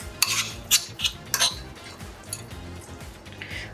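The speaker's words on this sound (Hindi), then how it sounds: "अब इसमें हम 1 चम्मच फिलिंग डालेंगे।" A spoon taps and scrapes on a dish while adding dumpling filling onto pieces of rice paper, with a few sharp clinks followed by softer scraping. The sounds are close and there is no talk.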